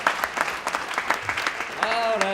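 Scattered, rhythmic clapping from a comedy roast audience for a performer, the claps fairly close, with a voice rising over the end.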